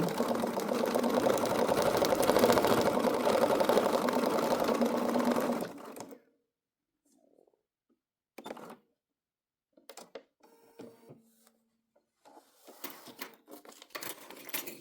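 A sewing machine runs fast and continuously while stitching wavy lines for thread sketching, a loud dense whir for about six seconds, then stops; brief faint handling sounds and quiet movement follow.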